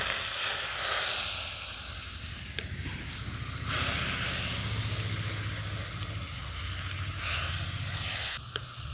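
A water-based paste of ground cumin and coriander hits a hot kadai and sizzles loudly, a continuous hissing, crackling fry that swells and eases in waves throughout, close by with no voices.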